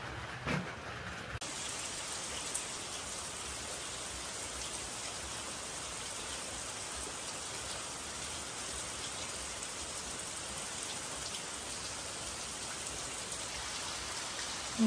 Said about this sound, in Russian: И дождь.